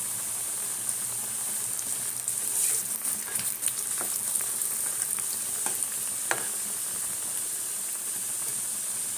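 Nimki dough pieces fry in hot refined oil with a continuous bright, hissing sizzle, steady and close, broken by occasional sharp pops and spits throughout, with no voices.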